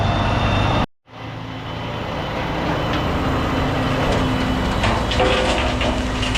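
Gravel-hauling truck idling and rumbling nearby, a loud steady low drone with a brief cutout early on, then continuous engine noise with faint higher whines and clatter and no talk.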